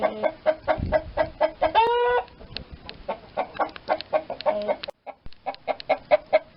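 A traditional red-black fighting rooster, a kattu seval weighing at least three kilograms, clucks in a steady rapid rhythm of short, loud, close calls, with a brief drawn-out crow-like cry early on and a short pause near the end.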